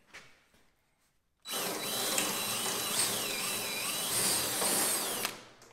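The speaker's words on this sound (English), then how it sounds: "this is all aluminum, so it's relatively soft to drill through, which is very convenient" A power drill bites through rivets in soft aluminum trailer trim, starting abruptly after a quiet moment and whirring loud and close for about four seconds with slight pitch wobbles before cutting off.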